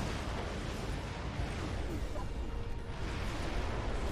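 Shrapnel missiles bursting in the tower defense game Defense Grid 2, a dense, continuous rumble of overlapping explosions with no clear gaps between blasts.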